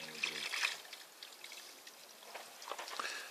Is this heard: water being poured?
yes